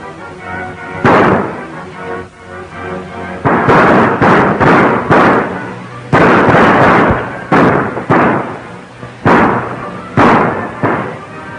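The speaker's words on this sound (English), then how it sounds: "What are you firing at?" Gunfire in a shootout from a 1936 western, a rapid run of loud cracking shots with echoing decays, bursts clustered irregularly over several seconds, close and dominant.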